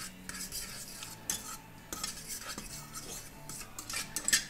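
A utensil clinks and scrapes against a bowl while homemade chicken sausage mixture is mixed, irregular soft knocks and rubbing close by at fairly low level, with no speech.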